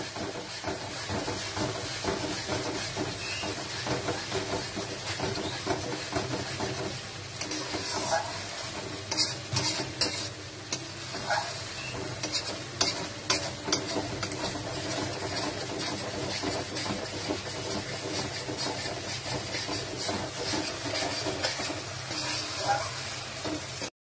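Spice paste stirred and fried in hot oil in a pan for a katla fish curry, a steady close sizzle with the scrape and clatter of a stirring spoon running throughout, no talk.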